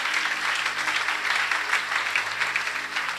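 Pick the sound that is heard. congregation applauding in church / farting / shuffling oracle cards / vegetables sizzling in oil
congregation applauding in church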